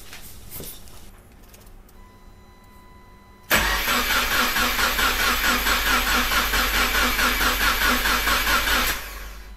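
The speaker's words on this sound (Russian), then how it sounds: "Теперь запускаю запись и прокручиваем двигатель стартером." A Subaru Impreza engine abruptly starts cranking, the starter motor whirring with a steady rapid pulsing for several seconds before cutting off, after a quieter stretch of faint noise.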